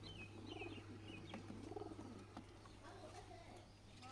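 Giribaz pigeon cooing softly on a rooftop, a few low murmuring coos repeating over a steady hum, fairly faint.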